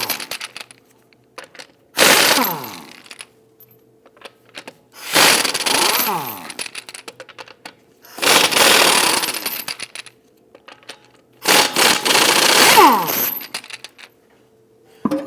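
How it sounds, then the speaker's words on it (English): A 19mm socket on an impact wrench loosens and spins off the front wheel studs of a Volvo XC60 in four loud whirring bursts, each winding down, with quiet gaps between. "Using a 19mm socket, let's loosen and remove the studs."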